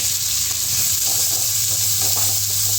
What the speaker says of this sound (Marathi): ते कढई चांगली तापली तेलच आपल्या आपण हा कांदा त्याच्यात फ्राय करून घेऊ